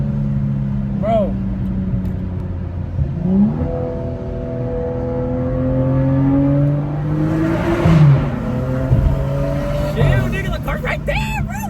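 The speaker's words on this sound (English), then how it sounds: "That Honda sounds crazy." A Honda car engine revs up and down close by, its pitch climbing and falling in several sweeps, with people talking over it throughout.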